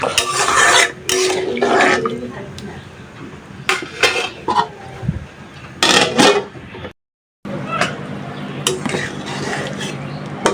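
Curry spices are stir-fried in a pan, with repeated loud scraping and clanking of a metal spoon against the pan in irregular bursts over a faint sizzle, broken by a brief silent gap.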